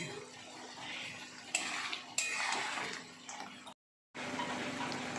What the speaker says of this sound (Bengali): এবার আমি মাছটা দিয়ে দিচ্ছি এবারে ভালো করে একটু নেড়ে নিচ্ছি